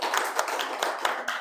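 A brief patter of clapping from a small audience at a casual campus talk event, a handful of distinct hand claps in quick uneven rhythm, fairly faint.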